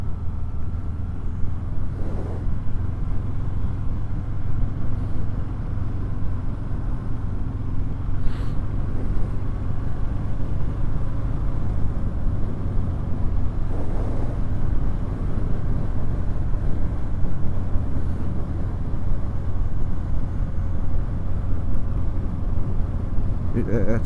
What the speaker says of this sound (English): It's 114 cubic inch anyway. Milwaukee 8 engine.